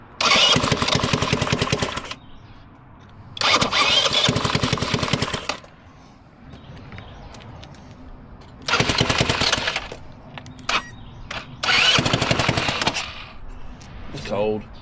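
A minibike's small engine fires and runs in loud, rapid, rattling bursts of about two to three seconds each, separated by quieter gaps with brief sputters, close by and with no talking.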